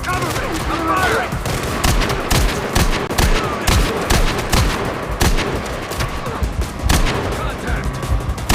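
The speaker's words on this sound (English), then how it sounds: "Rounds downrange. Reloading. Cover me. I'm firing." Rapid bursts of automatic gunfire and crackling shots from the video game Gangstar Mirage City rattle loudly and almost without pause, mixed with game voice callouts.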